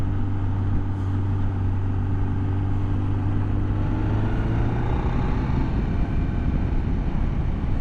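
A 2000 BMW K1200RS sports-touring motorcycle engine droning steadily after a downshift, with a constant low tone and heavy wind rush while riding, loud and continuous with no speech.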